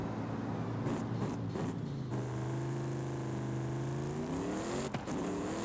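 Car engine in Forza Horizon 5, shifting and then pulling in a long rising rev that climbs steadily before another gear change, loud and continuous with brief gaps between shifts.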